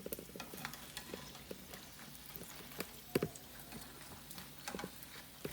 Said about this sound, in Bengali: আমার এদিকে আলু ফ্রাই হয়ে গিয়েছে